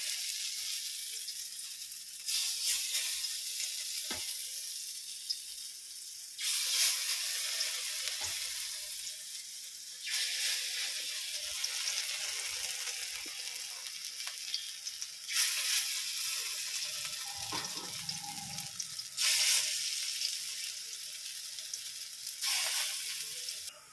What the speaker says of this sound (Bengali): তেলটা আমার গরম হয়ে গেছে আমি একে একে করে বড়া ভাজাগুলো ভেজে নেব